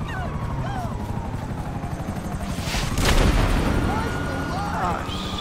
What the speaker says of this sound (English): Helicopter blew me up.